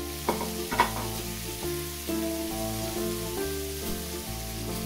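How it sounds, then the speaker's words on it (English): Mixed vegetables with onion, green chili, black pepper and ginger-garlic paste fry for chicken chow mein, with a few sharp stirring scrapes early on over a steady sizzle, while music plays continuously underneath. "Now I will fry it around 4-5 minutes."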